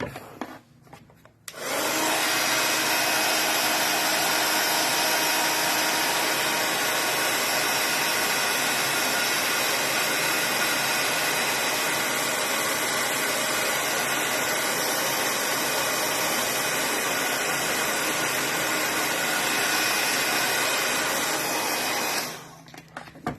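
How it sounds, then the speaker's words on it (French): A heat gun blows steadily for about twenty seconds during a scrapbooking session, a loud, continuous broadband whoosh that starts abruptly and cuts off at the end, with no talking over it. "le heat gun, j'en aurai plus de besoin, donc je vais arrêter de vous casser les oreilles avec"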